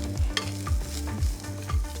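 Spices including cinnamon sizzle in a hot pan for a Coorg-style mushroom curry while a utensil scrapes and stirs in a steady rhythm, roughly every half second, close and fairly loud.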